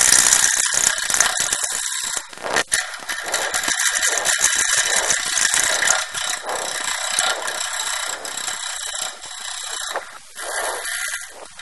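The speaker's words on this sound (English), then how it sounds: "all I'm going to do is just roughly shape the outside of the bowl" Woodturning tool roughly shaping the outside of a wooden bowl blank on a lathe, before the bowl is cored with a Woodcut corer: a steady, loud, ratcheting scrape with rapid cutting chatter that continues almost the whole time, with a few brief dips.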